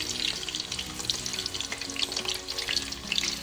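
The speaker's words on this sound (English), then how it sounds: "We're just going to start slowly frying." Oil sizzles and crackles steadily as potatoes fry slowly in a pan, a dense hiss with scattered pops, close by and without voices.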